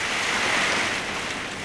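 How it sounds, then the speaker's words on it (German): Wild storm rain lashing a tiny house: a loud, dense, continuous roaring hiss with no pauses, close and enveloping. "Der gemütliche Regen, den wir immer so schön finden. Nee, der ist ein bisschen wilder."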